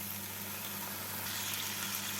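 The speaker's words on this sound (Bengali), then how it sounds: "মশলাগুলোকে ভেজে নিয়ে এর মধ্যে এবার দিয়ে দিচ্ছি টমেটো বাটা" Tomato paste fries with spices in a pan for paneer dopeyaja, giving a steady, close hiss of sizzling over a low background hum, with no pauses.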